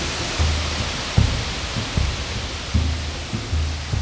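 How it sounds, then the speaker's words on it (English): A waterfall in the southern Mexico jungle roars as a steady, dense wash of falling water, with a few low thumps or bumps breaking through the constant rush. "We found the waterfalls."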